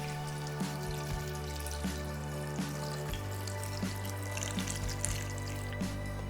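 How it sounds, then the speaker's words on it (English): Hot broth poured over roasted zucchini and potato in a blender, a steady liquid splashing and trickling wash with faint clinks and drips, close and continuous without speech. "grab your hot broth and pour it over the roasted veggies"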